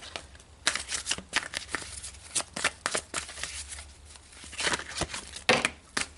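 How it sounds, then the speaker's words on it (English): Tarot cards being shuffled in a series of quick, crisp riffles and papery flutters, repeated bursts close to the microphone with no talking. "So let's pull some more cards."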